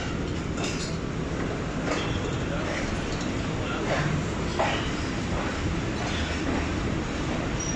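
The Mehr Express, a private train running from Multan to Rawalpindi, rumbles steadily out of platform 3 at Kundian Junction with a continuous clattering drone and faint wheel noise.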